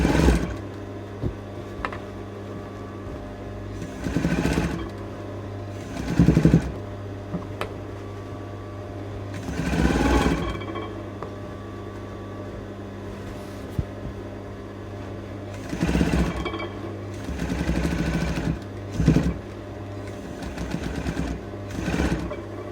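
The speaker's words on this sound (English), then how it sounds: "I have to really kind of push the whole dress through the machine" A sewing machine stitches a strapless dress lining in several short bursts of whirring separated by pauses, over a steady low electrical hum, the fabric pushed through between runs.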